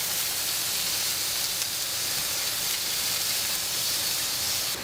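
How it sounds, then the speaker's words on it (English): Seasoned meat cooking on a small grill pan gives a constant, dense sizzle, close and steady throughout with no pauses and no talk. "Now I'm just cooking these on a little grill pan, about 5 minutes or so aside."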